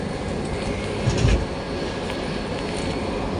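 A near-empty passenger train rolls along with a steady, loud rumble and a low clatter of wheels on track, and one heavier thump partway through.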